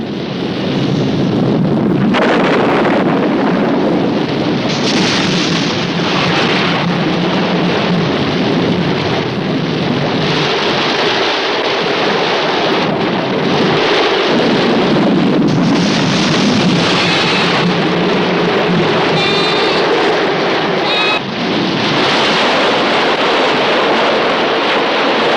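Loud, roaring wind buffets the microphone with a constant rushing wash of noise, like a heavy storm outdoors; gusts rise and fall, with no voices.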